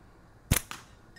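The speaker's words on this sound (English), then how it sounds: "I'm gonna take five shots, see what speeds we get." A slingshot fired with a stretchy pink Samiki band through a chronograph gives one sharp, loud snap followed by a softer crack a fraction of a second later, in a quiet setting.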